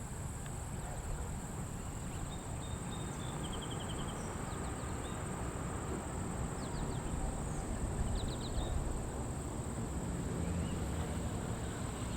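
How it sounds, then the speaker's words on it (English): Crickets and birds outdoors during a nature listening hunt, a steady high insect trill running throughout with faint scattered bird chirps over a low background rumble. "I know what I heard was a cricket, I heard some birds"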